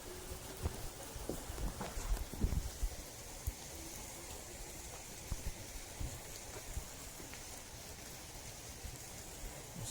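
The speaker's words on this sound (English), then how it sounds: "It's starting to rain a bit harder." Steady rain falls outdoors in Kentucky, a soft, even patter and hiss with scattered nearby drops and taps, faint and constant with no talking.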